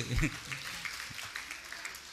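An audience claps during a speech at a temple's Aani festival in Tirunelveli: steady, faint, distant applause from a crowd, with no talk over it.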